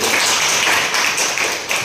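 A crowd applauds continuously at a school event, a dense patter of clapping hands that holds steady for the whole moment.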